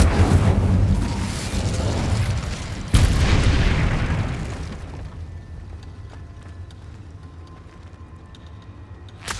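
Incendio fire spell cast in Hogwarts Legacy: a loud, boomy fiery blast that flares again about three seconds in, then gradually dies down into a quieter rumbling tail.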